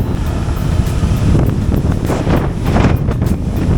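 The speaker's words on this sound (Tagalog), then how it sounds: "Kaya lang sobrang lakas ng hangin." Strong wind on Siargao island in the Philippines buffets the microphone in loud, gusty roars that rise and fall throughout, with no voices.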